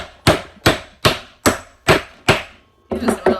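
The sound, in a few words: heavy hammer whacking a metal punch on a metal base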